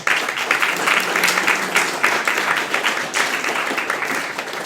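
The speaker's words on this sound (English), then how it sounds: "I'd like David to stand up and people to give him a round of applause" An audience gives a round of applause for David Greenspan at a Meteor developer meetup, sustained dense clapping from a roomful of people, fairly loud and close, lasting the whole stretch.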